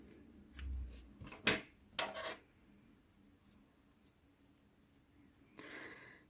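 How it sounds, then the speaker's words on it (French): Scissors snipping grey yarn during amigurumi crochet work, a few quiet close cuts and soft handling rustles in an otherwise hushed room, ending in a faint brush of movement. "Et je vais couper le fil gris."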